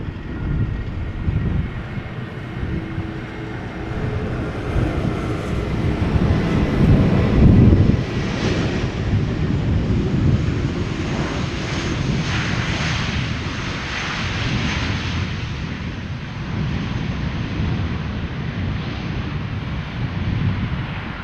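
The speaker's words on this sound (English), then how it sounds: "Now, Maskargo A332 about to land over here, arriving from Doha." A MASkargo Airbus A330-200 jet approaching to land at Amsterdam Schiphol, arriving from Doha, gives a steady, broad engine roar with wind rumble that swells around the midpoint and holds at a loud, continuous level.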